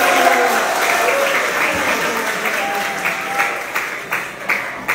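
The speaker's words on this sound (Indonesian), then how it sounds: "Tepuk tangan bagi dia." A small group claps steadily for a few seconds, the applause loud and close, thinning slightly toward the end.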